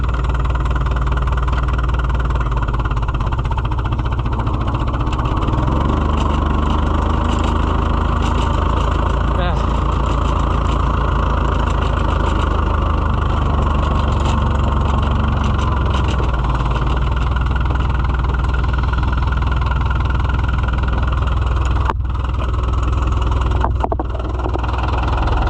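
A White Iseki 2-65 tractor engine idles in a steady, deep, throbbing drone that continues unbroken throughout, with talk over it and a few clanks near the end.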